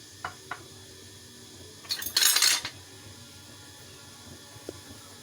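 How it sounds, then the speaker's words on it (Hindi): A spoon mixes vanilla cake batter in a metal bowl with a couple of light clinks, then a brief burst of scraping and clattering against the bowl, followed by quiet with one faint final tap. "इसको हम अच्छे से मिक्स कर लेते हैं सब चीज़ों"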